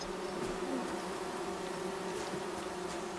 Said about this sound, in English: Sounds like bees.